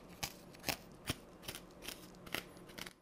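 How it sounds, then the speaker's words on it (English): A handheld scraping tool drags across the inside top of a pumpkin, giving about eight short, close, crisp scrapes at an uneven pace, with no talking. "I've got this tool here for scraping pumpkins. Just gonna give the top a scrape."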